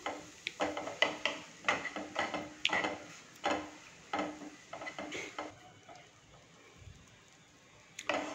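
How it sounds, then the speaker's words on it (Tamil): Fried chicken pieces being stirred and tossed in a pan, a series of irregular scraping clatters of spoon against metal, close and moderately loud, pausing then resuming. "தான் வறுத்து பொடிச்சு வச்ச சிக்கன் இதில் ஆட் பண்ணிடலாம். திருப்பி இதை நல்லா மிக்ஸ் பண்ணிட"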